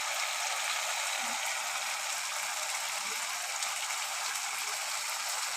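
A pot of water with fried spices simmers at a rolling boil, giving a dense, even hiss with a few faint bubbling blips and no talking.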